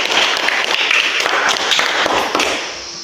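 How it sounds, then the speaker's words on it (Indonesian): Children in a classroom lesson clapping hands together, a loud, close, busy burst of claps that runs briefly and tapers off at the end. "Tepuk tangan dulu"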